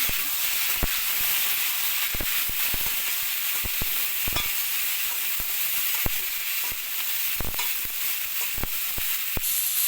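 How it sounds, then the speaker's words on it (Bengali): Diced papaya, potato and green chilli fry together in a wok of oil with cumin seeds. They give off a dense, continuous hiss, and the spatula scrapes and clacks against the wok several times. No one speaks. "এইবার আমি কেটে রাখা পেঁপে আলু এবং কাঁচা লঙ্কা সবটাই একসাথে দিয়ে দিই কড়াইয়ের মধ্যে"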